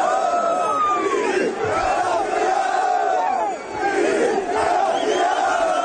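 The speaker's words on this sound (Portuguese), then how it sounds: "A torcida do Cruzeiro, que marcou presença no Barradão, ditava o ritmo." Cruzeiro football supporters chant in unison at the Barradão stadium, a dense, continuous roar of many voices rising and falling in rhythm, loud and enveloping throughout.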